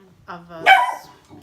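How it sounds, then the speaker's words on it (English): Daisy, a pet dog inside a house, lets out a single sharp bark up close, with a brief human voice just before it. "Please excuse my dog."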